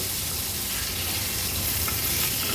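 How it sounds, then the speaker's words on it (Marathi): Ladyfish pieces fry in oil on a flat tawa, a dense, continuous crackling sizzle that stays close and fairly loud throughout, with no talking. "पुन्हा हे आपण लेपांचे तुकडे पलटून घेऊया।"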